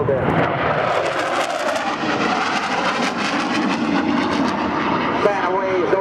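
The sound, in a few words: F-4 Phantom jet high-speed pass at airshow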